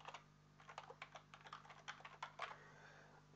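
Quiet, steady clatter of keys typed on a computer keyboard, a rapid run of close taps with no talking.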